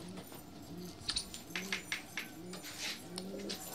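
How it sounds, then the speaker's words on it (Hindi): Soft, repeated pigeon coos in a slow rolling rhythm, with a few brief chirps and light rustling in the background. "हमारे कबूतर को देख लेते हैं"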